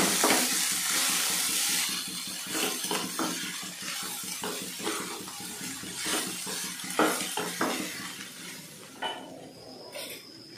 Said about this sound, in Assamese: এতিয়া মই চিমলা মিৰ্চখিনি দিলোঁ, দিলে এতিয়া মই ধুনীয়াকৈ লৰাই দিম।